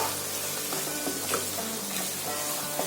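Mutton roast sizzles in a pan while being stirred, a continuous close frying hiss with small scraping strokes of the spoon recurring throughout.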